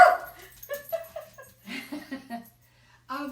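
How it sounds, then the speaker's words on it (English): A pet dog barks and whimpers in short yips and whines, fairly close and clear, spread through the moment with brief quiet gaps between bursts. "That's my dog."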